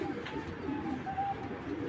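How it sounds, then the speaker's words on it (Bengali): Small ornamental pigeons coo softly and continuously nearby, a low murmuring throb with faint higher chirps, in a pigeon sale setting. "ছোটোখাটো একটা কবুতর, খুবই সুন্দর মাশাআল্লাহ, অপরূপ সুন্দর"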